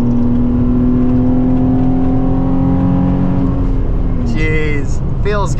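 A Nissan 350Z pulls hard from inside the cabin, its engine drone climbing loud and steady in pitch, then a quick drop as the gear changes before it climbs again.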